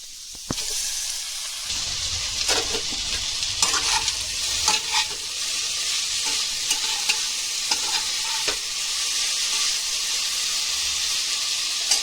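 Potatoes and carrots frying in a pan for a winter vegetable dish, stirred steadily with a spoon; a continuous close sizzle runs throughout, broken by repeated scraping knocks of the stirring.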